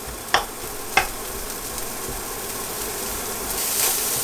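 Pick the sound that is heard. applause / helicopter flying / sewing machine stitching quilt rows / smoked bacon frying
smoked bacon frying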